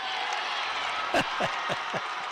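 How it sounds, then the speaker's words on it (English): Ambient crowd noise behind a podcast guest, a steady broadband murmur of a crowd with a few soft claps or thumps near the end, under faint talk. "He's got the ambient crowd noise behind him"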